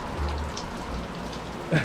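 Heavy rain pours steadily on a van parked in Newquay, a dense, even hiss of drops on the surface that runs throughout, with one brief louder knock near the end.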